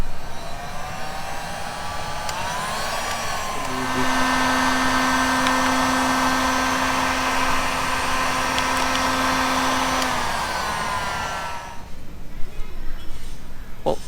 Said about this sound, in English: we're going to get the Hausmann heat gun